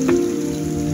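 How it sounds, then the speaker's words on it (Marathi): Rain falls at Tarkarli beach on the Konkan coast as a brief, steady, fairly loud hiss of drops hitting surfaces, with no talking. "पाऊस पडतोय म्हणून"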